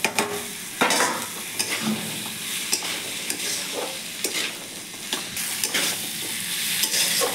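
Masala for ghugni fries and sizzles steadily in a pan while a spatula stirs and scrapes it repeatedly, with close, busy scraping and frequent clatters throughout.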